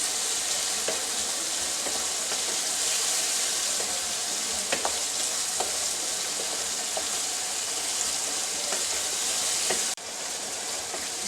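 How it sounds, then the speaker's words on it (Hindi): Boneless chicken sizzles and fries steadily in a handi, a loud continuous crackle with a few sharp pops and stirring clicks, easing slightly near the end. "इसको मैंने 2 मिनट के लिए फ्राई कर लिया।"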